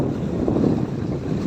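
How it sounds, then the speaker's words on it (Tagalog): Steady, roaring strong wind buffets the microphone on a fishing boat on a choppy sea, a continuous low rumble with no voices. "Napakalakas pa ng hangin, tapos medyo maalon."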